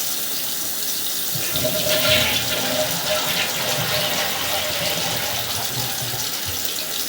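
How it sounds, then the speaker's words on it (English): A toilet being flushed in a house: a steady rush of running water lasting several seconds, fairly close and even, with a faint voice underneath. "Flush the toilet also."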